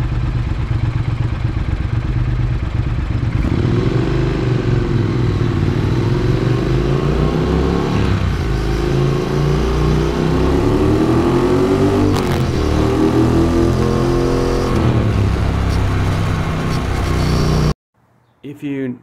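A Triumph Thruxton R fitted with Norton style mufflers revs repeatedly, its loud exhaust note rising and falling in swells over a steady rumble before cutting off abruptly near the end.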